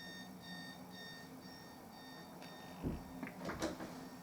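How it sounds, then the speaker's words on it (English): A faint electronic alarm clock beeps in short repeating tones in the background, followed by a few soft knocks and clatters nearby. "That beeping, I don't know what that is. Sounds like an alarm clock"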